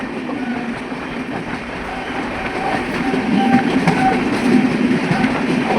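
A train rumbles steadily along the rails with a faint rhythmic clatter, growing slightly louder toward the end.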